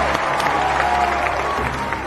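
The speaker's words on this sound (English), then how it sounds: "Then cheers erupted." A crowd cheers and applauds together in a room, a dense steady wash of clapping and voices filling the whole moment at close range.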